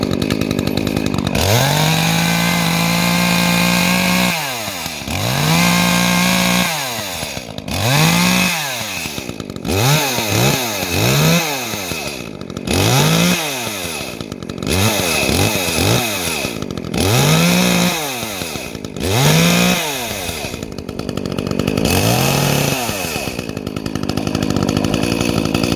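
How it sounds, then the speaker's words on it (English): An Echo chainsaw revs repeatedly with its chain spinning, loud and close, each burst rising to a high whine and dropping back to a rough idle between pulls of the throttle, with no talking. "spinning it a lot, that oil is gonna fling off of the chain"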